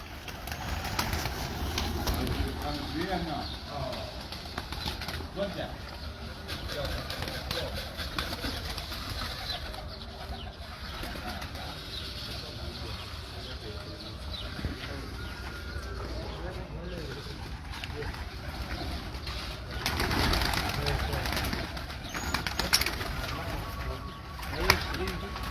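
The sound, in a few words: pigeons cooing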